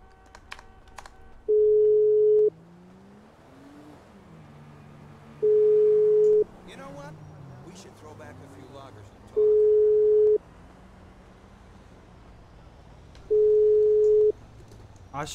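An unanswered phone call in the GTA V roleplay game rings out as four steady electronic tones, each about a second long and evenly spaced, with quiet talk and game sounds between them.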